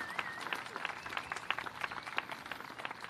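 An audience at an outdoor municipal band concert, some seated on the grass, claps steadily in continuous applause, a dense spread of many hands at moderate distance.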